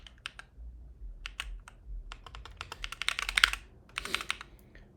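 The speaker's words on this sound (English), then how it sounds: "It's the typing that's the issue?" Typing on a computer keyboard during a live coding session, quick irregular bursts of crisp key clacks that grow busier and louder toward the end, heard alone over a soft low rumble.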